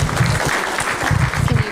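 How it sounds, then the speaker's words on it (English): Applause from attendees at a city council meeting, with a low rumbling bed of clapping and some voices underneath for the whole short stretch. "Big round of applause for his appointment."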